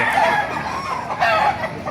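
Many chickens clucking and crowing together in a dense, noisy crowd at a poultry market in Baliuag, Bulacan, loud and continuous, with no clear voices.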